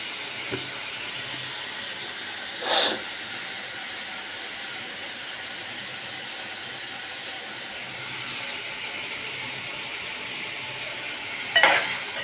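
Green chillies hiss and sizzle steadily in a hot pan, a faint even frying noise broken by two brief louder bursts.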